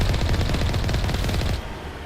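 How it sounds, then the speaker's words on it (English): Enemy gunfire in Mass Effect Legendary Edition, a fast, close burst of automatic shots rattling steadily for over a second and a half, then cutting off into quieter game ambience. "I see you shooting at me."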